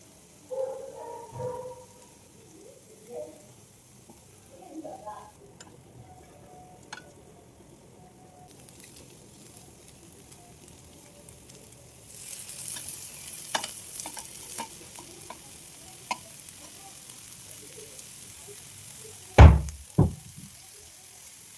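Paneer pieces fry gently on a tawa with fresh curry leaves, soft intermittent sizzling alongside spatula scrapes and a few sharp knocks against the pan, fairly quiet and close.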